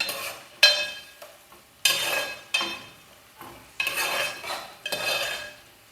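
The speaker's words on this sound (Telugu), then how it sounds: "ఈ ఆయిల్లోకి మనం కట్ చేసిన ఉల్లిపాయలు వేసుకుందాం. ఒకసారి ఉల్లిపాయలని కలుపుకుందాం." Chopped onions stirred in hot oil in a pan: a spoon scrapes and clanks against the metal in repeated strokes, each followed by a soft sizzle, close and clear with no talking.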